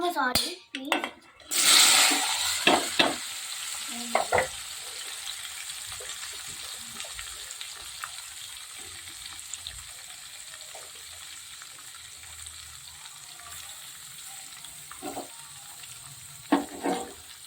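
Ivy gourd pieces tipped into a hot pan with curry leaves and chilli give a loud burst of sizzling and clatter, which settles into a faint frying hiss with scattered clinks of a utensil against the pan.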